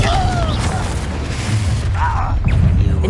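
A Confringo blasting spell goes off in the Hogwarts Legacy video game, a loud, sustained, rumbling blast filling the whole moment, with a voice briefly heard through it.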